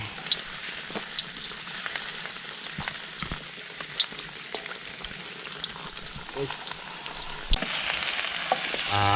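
Steady crackling sizzle of bananas frying in hot oil, with small pops and clatters throughout, fairly close and moderately loud.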